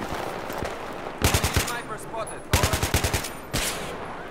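Bursts of automatic gunfire in Battlefield 3, three rapid volleys of sharp repeated shots that stand out loudly over a busy background of game noise.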